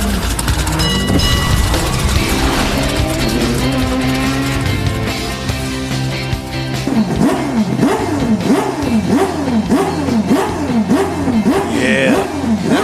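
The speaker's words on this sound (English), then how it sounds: "That was the sound that was supposed to play during Conrad's Mazda Auto story" A Mazda car engine revving in a played sound clip, loud and close, with a layered mechanical roar that shifts into repeated rising-and-falling rev sweeps in the second half, heard alone without talk.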